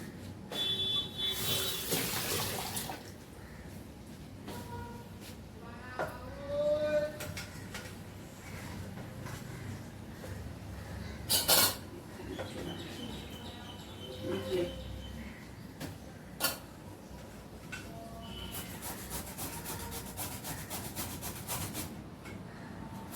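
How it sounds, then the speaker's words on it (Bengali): Vegetables are rubbed against a hand grater in a home kitchen, producing repeated scraping strokes with pauses, moderately close, alongside other small kitchen noises and some faint background sounds. "এটাকে এখন গ্রেটার দিয়ে গ্রেট করে নেব"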